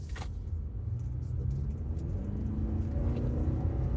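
A 2023 Toyota RAV4 pulls away and accelerates, its engine a steady low rumble and road roar that builds gradually, heard from inside the cabin.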